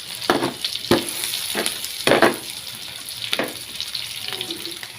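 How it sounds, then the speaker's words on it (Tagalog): Garlic and onion are being sautéed in a pan for a pork stir fry, with a steady close sizzle broken by several sharp scraping stirs and clinks, and no talking. "Lagay na rin ang sibuyas. Kasi brown na konti ang ating bawang."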